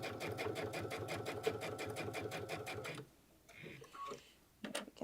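A sewing machine runs fast over a seam with an eighth-inch allowance, rapid even stitching pulses loud for about three seconds, then stops, leaving quieter handling noise and faint voice-like sounds.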